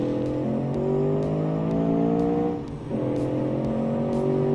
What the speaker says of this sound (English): The engine sounds awesome